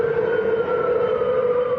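A malfunctioning alarm siren sounds at night in Taipei, a loud, sustained wailing tone with slightly wavering pitch, holding steady throughout with no voices.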